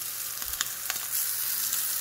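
Shrimp sizzling steadily in a hot pan as they are turned, with a few soft scraping clicks over a continuous hiss, no talking.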